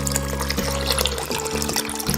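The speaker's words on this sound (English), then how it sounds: "Now I'm going to add 5 more cups of water." Water poured into a crock pot over dry black beans, a continuous close splashing fill with a low hollow gurgle that holds steady throughout.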